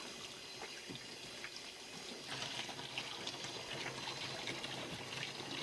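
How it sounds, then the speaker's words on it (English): Hot water running and splashing onto a denim jacket to soak it before bleaching, a steady close pour that grows a little fuller partway through, with no talk. "So I'm gonna get the jacket completely soaked."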